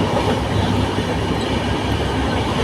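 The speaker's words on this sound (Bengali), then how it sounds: "তো ট্রেন ছেড়েও দিয়েছে।" A train running on the tracks after pulling out, loud and close from inside the carriage, a continuous rumbling roar with steady wheel clatter and no voices.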